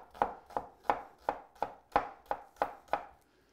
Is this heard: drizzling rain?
no